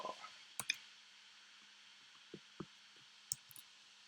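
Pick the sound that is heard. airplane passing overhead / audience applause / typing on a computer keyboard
typing on a computer keyboard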